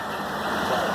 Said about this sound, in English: Now the engine's running on 20 psi